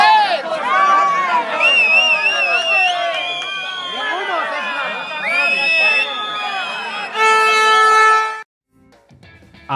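Farm workers at a protest boo and jeer the Vox leader, a dense crowd of shouting voices close by, then loud sustained horns blare together near the end before a sudden drop.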